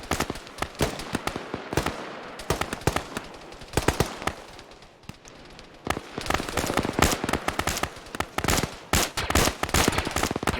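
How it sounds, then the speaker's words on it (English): Video game minigun fire rattles without pause: dense, rapid, sharp cracks, loud and close, with a brief thinning in the middle before the fire surges again. "So that's the minigun rounds firing."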